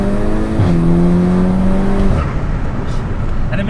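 A tuned Volkswagen Golf R with around 360 horsepower on an Artec map, its engine droning loud and close with a steady tone that rises, then drops abruptly, giving way to rough crackling bursts.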